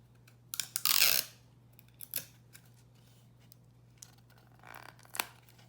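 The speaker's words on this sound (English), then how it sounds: "Then we're gonna put 2 pieces of tape on the edges." Pieces of tape are pulled and pressed onto the edges of a paper tube, a loud ripping burst near the start followed by a few scattered crinkles and softer tearing sounds in a quiet room.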